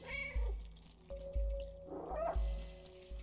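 Short cat meows from the cyberpunk video game Stray sound in quick succession against a looping game score with a regular low thump and a sustained tone.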